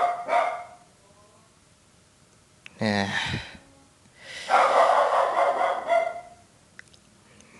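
A pet dog named Bo barks repeatedly indoors, with two loud bursts separated by quieter gaps, and a voice speaks briefly among the barks.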